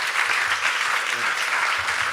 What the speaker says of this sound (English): Can we get a round of applause for these guys?